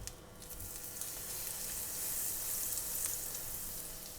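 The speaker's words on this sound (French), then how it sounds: "Dans une poêle, on va mettre une bonne quantité de matière grasse, là en l'occurrence du beurre." Butter melting in a frying pan for a beef skirt steak with shallots dish, giving a steady close hiss and crackle that holds evenly throughout with no voices.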